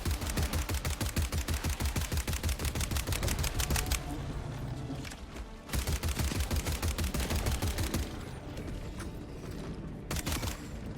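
SMG Flame 34 Stroker submachine gun in Helldivers 2, a World War One themed addition, firing in rapid steady bursts of sharp shots, with short pauses between bursts and loud, close gunfire throughout.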